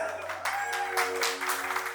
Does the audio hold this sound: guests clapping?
yes